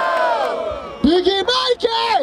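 A crowd at a rap battle yells and cheers loudly in short, surging whoops, with a host's amplified voice shouting over them.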